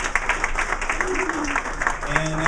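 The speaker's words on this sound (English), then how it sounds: "Let's give them all a round of" A crowd at a Bend town hall event gives a round of applause for the sponsors, with dense, steady clapping throughout and faint voices mixed in.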